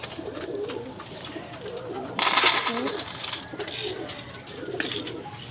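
Pet pigeons coo softly in a loose, low murmur, with a brief louder flutter or scuffle partway through and faint background noise throughout.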